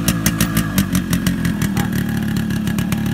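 A Yamaha RX100 two-stroke motorcycle engine running on a cold morning start, a rough, buzzing idle with uneven popping pulses and a steady raspy drone, close and loud with no talking.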